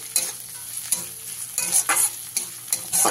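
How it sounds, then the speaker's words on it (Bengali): Chopped onions and green chillies frying in a pan for a pointed gourd bhorta, a close, continuous sizzle broken by repeated scraping stirs of the spatula. "সব কিছুকে মিশিয়ে নিয়ে ভালো করে ভেজে নেব"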